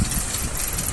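A motorbike engine drones steadily and loud while the rider holds a wheelie, a brief rough mechanical hum with no voices.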